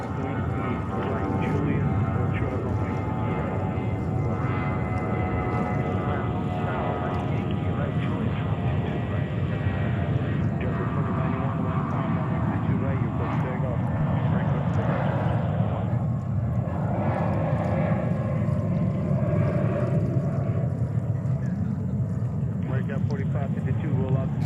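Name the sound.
Qantas Atlas Boeing 747 aircraft at JFK airport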